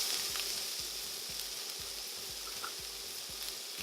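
Pepper, garlic and diced onion sizzle softly in about a tablespoon and a half of olive oil, a steady, quiet hiss with faint ticking pops throughout and no voices.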